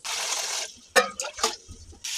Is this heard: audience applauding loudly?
no